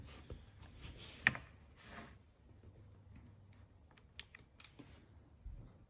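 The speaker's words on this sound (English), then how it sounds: "I'll type this into my calculator and then approximate again to the penny" Quiet, scattered key presses as numbers are tapped into a calculator, soft clicks spaced unevenly with one sharper tap, over a low room hum.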